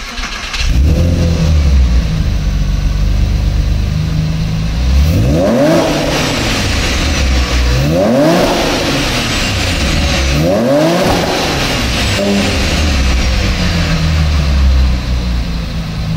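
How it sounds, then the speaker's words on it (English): A 2001 Porsche 996 engine with Fabspeed exhaust and intake revs repeatedly from idle, three or four sharp rising blips with a deep, throaty exhaust roar, loud and close, settling back to a rumbling idle. "This is a 2001 Porsche 996. It has Fabspeed exhaust, Fabspeed intake"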